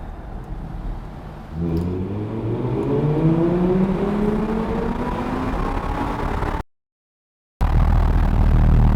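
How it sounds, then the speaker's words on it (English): An Audi R8 V10 with open exhaust valves revs up hard and holds a rising, booming exhaust roar inside a tunnel, then cuts briefly before returning loudly. "go to a tunnel and hear that exhaust when we're giving it some"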